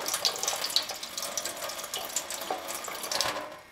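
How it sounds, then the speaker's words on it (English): Hot tap water pours steadily from a faucet over skin, a continuous close splashing rush with no talk. "The best way I've found to get relief from the itch is to run it under the hottest water you can stand for 10 to 20 seconds."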